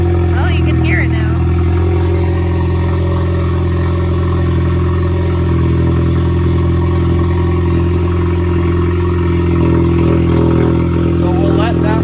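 A B9 Audi A4 idles on a cold start through a loud aftermarket exhaust, a continuous, heavy, droning rumble that holds steady and close for the whole stretch.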